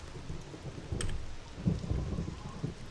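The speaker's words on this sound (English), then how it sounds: "Go away, you stupid rain." In the survival video game Scum, steady rain patters over low rolling thunder rumbles, with a brief sharp click near the start and no talk.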